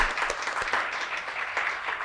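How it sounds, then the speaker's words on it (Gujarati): Audience applause at a public cancer awareness seminar, a steady wash of clapping from a crowd lasting a couple of seconds with no talking over it. "તાળીઓ સાથે એમનું સ્વાગત કરીએ આપણે."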